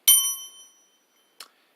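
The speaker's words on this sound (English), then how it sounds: "I'll be indicating all of Attorney General Barr's redactions with the little silver bell." A small silver bell gives one bright, ringing ding that decays over about half a second, followed by a brief, fainter second tap, heard alone against silence.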